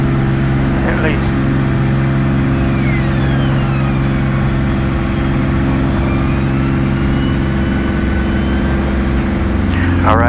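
Beechcraft Bonanza piston engine and propeller at full throttle during the climb after takeoff, a loud, steady, droning roar heard from inside the cabin with no change throughout.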